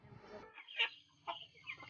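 Backyard chickens, household fowl in a Lao village, peck at wet rice and give a few soft, close clucks in short bursts over a low background hum.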